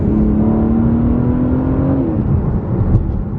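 A car engine revs up loudly and steadily, the pitch climbing as it accelerates before easing off, heard from close by.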